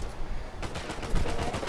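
Gunfire in Uncharted 4 sounds as a quick string of sharp shots after a brief lull, close and moderately loud over steady game ambience.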